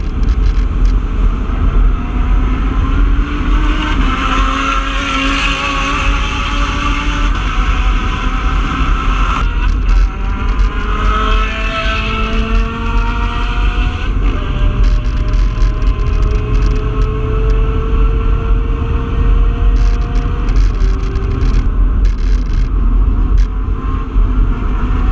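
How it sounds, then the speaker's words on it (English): Race cars including a Ferrari Challenge car and a Lamborghini Huracan GT3 Evo passing on the Sebring circuit, heard as loud continuous engine roar with rising and falling pitch sweeps throughout, no talking. "I got passed by a few really cool cars, including a Ferrari Challenge car and a Huracan GT3 Evo"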